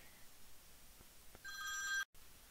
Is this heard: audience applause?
no